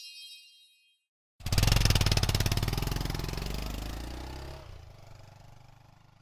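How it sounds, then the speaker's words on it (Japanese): Motorcycle engine firing up after a short silence into a loud, rapid, steady putter close by, then easing slowly toward idle. "これはバイク。"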